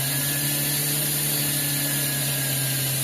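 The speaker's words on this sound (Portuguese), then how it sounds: "aqui eu estou com a parafusadeira, vou devagar" Cordless screwdriver drilling slowly into a dry pine cone, a steady high motor whine holding a constant pitch throughout, close and continuous, with no talking.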